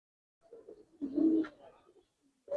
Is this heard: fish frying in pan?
no